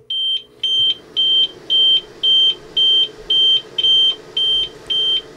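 An APC Smart-UPS 1500 sounds its low-battery alarm, a series of about ten evenly spaced high-pitched beeps, each roughly a third of a second long, clear and close against a faint steady hum.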